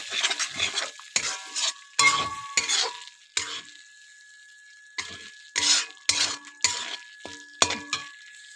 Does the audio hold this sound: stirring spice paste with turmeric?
yes